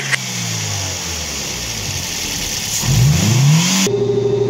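A Toyota Vios engine just fitted with a new ignition coil runs at a steady idle, then revs up in a rising sweep near the end before settling into a higher steady hum, loud and close with no talk.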